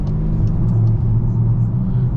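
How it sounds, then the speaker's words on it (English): Inside a Volkswagen Atlas crossover on sporty tires, a loud steady low rumble of road and engine noise fills the cabin while driving, with no talking. "But as you could hear, a lot of road noise, and that's partially due to the sportier tires"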